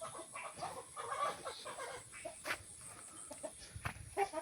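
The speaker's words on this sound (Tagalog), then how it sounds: "mga heritage chicken natin na Rhode Island Red at saka Black Australorp" Heritage Rhode Island Red and Black Australorp hens cluck softly nearby in a farm setting, a faint, scattered run of short clucks and murmurs with occasional louder notes.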